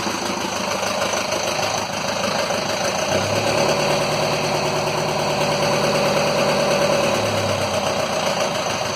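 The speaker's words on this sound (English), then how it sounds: "I'll rev that up a minute." Nelson 34 motor boat's engine running cold with an Aquadrive, a steady mid-pitched drone that rises briefly in a gentle rev and then settles back to idle, continuous and close with no voices.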